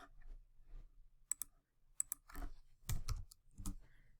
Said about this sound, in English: I like to actually click on it and type in a number